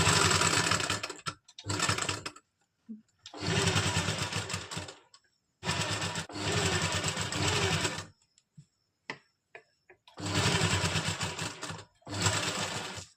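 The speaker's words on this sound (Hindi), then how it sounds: "इसमें भी हम इस तरह से बड़े टांके की सिलाई लगा लेंगे।" Sewing machine running in bursts of stitching as it sews long basting stitches along the plates of a lined kurti, loud and close, with short pauses between runs and no talk.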